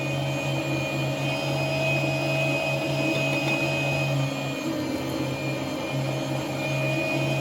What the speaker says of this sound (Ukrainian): Отже, друзі, подрібнили наш фарш.